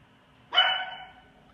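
A single short dog bark sounds from somewhere in the house, moderately near and clear against a quiet room, then fades out.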